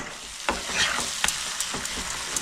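Chopped tomato is stirred and fried in a pan for a fish curry, a steady hiss broken by sharp spatula scrapes and taps at irregular intervals, close up and unaccompanied by speech.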